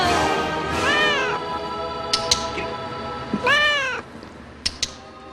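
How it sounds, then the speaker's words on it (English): A cat meows several times, drawn-out rising and falling cries with pauses between, clear and close, with a few small clicks in the gaps. "In the Disney movie Hocus Pocus, witches turn a boy into a cat."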